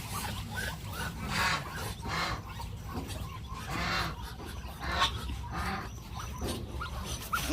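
Indonesian muscovy duck in a backyard farm with newly hatched cross-bred ducklings, giving soft, faint honking and hissing calls in repeated bursts over low outdoor background noise.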